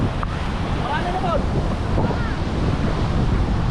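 Sea waves crash onto a shore in a loud, continuous churning surf, with strong wind rumbling across the microphone and occasional faint voices in the background.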